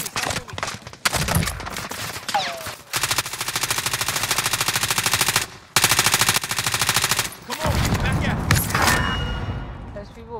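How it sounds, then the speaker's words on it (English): Bursts of automatic gunfire in the Call of Duty Warzone video game on Rebirth Island, several long rapid-fire strings broken by short pauses and louder nearby bursts, with voices talking over and between them. "They're shooting. I'm shooting."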